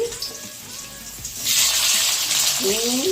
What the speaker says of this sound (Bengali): এবারে সব আনাজগুলো ভেজে নেব একসঙ্গে